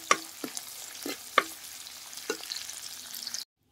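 Prawns frying in a pan of oil crackle with a soft continuous sizzle, broken by several sharp scraping stirs of a utensil, close and with no talking.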